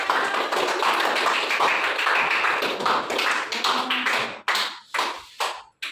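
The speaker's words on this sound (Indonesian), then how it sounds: "Iya, tepuk tangannya" Classroom pupils clap together in a dense burst of applause that thins out, ending with a few separate loud claps spaced apart.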